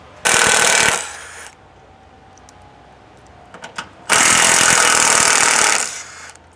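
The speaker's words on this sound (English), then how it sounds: "So I'll remove these bolts and then get this on" An impact wrench removes bolts from the bash plates of a Toyota Prado 250, two loud sustained rattling bursts close by, separated by a quiet gap with faint clinks of handling.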